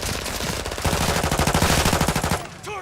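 Close, loud automatic gunfire in Call of Duty MWII, a steady rapid string of shots that starts suddenly and cuts off near the end, with almost no talking.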